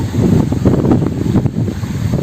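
Ajalapuram waterfall near Rachakonda roars among rocks, a loud, close, steady rush of falling water.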